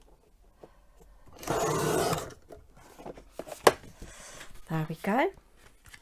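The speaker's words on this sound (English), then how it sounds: "I'm just going to trim that little bit there." Scissors trim a sheet of decorative paper for a one-sheet mini folio, giving a single rasping cut of about a second. A brief voice follows, then quieter paper handling.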